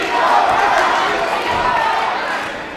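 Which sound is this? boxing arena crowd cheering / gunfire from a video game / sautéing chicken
boxing arena crowd cheering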